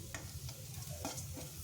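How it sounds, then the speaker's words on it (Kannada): Spices frying in oil for chicken liver fry, a close, soft sizzle broken by a few quick stirring scrapes in a brief burst. "ಅದು ಎಣ್ಣೆಲಿ ಸ್ವಲ್ಪ ಫ್ರೈ ಆದರೆ ರುಚಿ ತುಂಬ ಚೆನ್ನಾಗಿ ಬರುತ್ತೆ"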